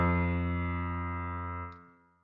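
A single sustained low F on a keyboard instrument, rich in harmonics, holding steady near and clear before fading out at the end, with no voices.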